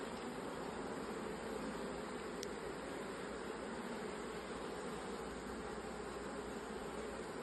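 Near a beehive a pesky wasp keeps up a continuous, low-level insect drone for several seconds, faint and unbroken, with no voices over it.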